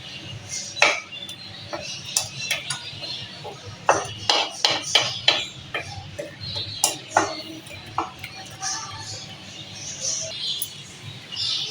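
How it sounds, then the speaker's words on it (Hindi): Thick rewri mixture being scraped and shifted onto a greased plate, with a spoon clinking and tapping against the metal in scattered sharp bursts at close range, nobody speaking. "अब हम इसको जो है वो ग्रीस्ड हुई हुई प्लेट पे शिफ्ट कर लेंगे।"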